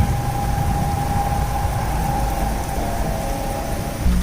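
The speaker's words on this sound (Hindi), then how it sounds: "ऑटो चल पड़ता है।" An auto rickshaw engine idles with a steady low rumble and a faint tonal hum, then revs slightly as it begins to pull away near the end, with a steady wash of rain around it.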